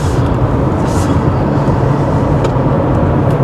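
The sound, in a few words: car driving through a corner, Honda CR-V or Toyota RAV4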